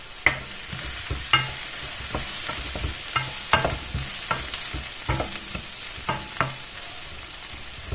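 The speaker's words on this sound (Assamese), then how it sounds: "পিঁয়াজখিনি দি এনেকৈ অলপ দেৰি লৰাব লাগিব" Onions stirred and fried in a pan while cooking pork with sesame seeds, a steady low sizzle punctuated by repeated sharp scrapes and taps of the spatula at uneven intervals, close and with no voices.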